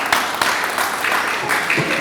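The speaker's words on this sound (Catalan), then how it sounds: "un aplaudiment." A theatre audience applauds after the translator is thanked before a play, with a dense, steady patter of clapping heard close by for a couple of seconds.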